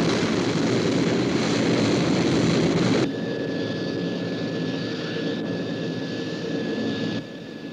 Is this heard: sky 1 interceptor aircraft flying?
yes